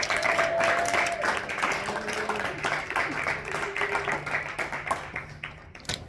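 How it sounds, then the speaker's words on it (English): An audience at a season two reunion show gives the winner a round of applause, with steady, dense clapping throughout that thins slightly toward the end, accompanied by faint cheering. "One last round of applause."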